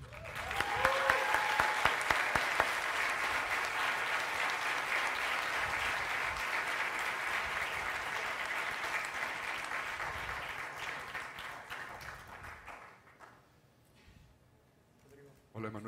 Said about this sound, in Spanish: Les pido que recibamos con un aplauso al presidente de Hombre Naturaleza, el señor Emanuel Hacha.